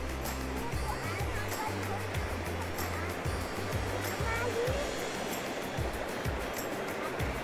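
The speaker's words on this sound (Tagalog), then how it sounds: "Medyo malakas yung agos ngayon." A strong flowing water current rushes steadily and loudly, a dense continuous wash of moving water close by, with no clear talk.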